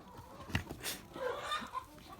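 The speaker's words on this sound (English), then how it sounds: "Sorry for the chicken noise." Farm chickens clucking close by in short, irregular bursts, with soft scratchy background noise around them.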